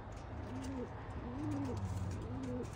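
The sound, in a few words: pigeons cooing, racing pigeons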